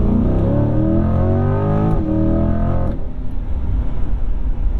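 A 2021 Chevrolet Corvette Z51's V8 engine revs hard on a track, its rising harmonic whine climbing steadily before dropping off abruptly near the three-second mark into a rougher, lower rumble; loud and close, with no talking.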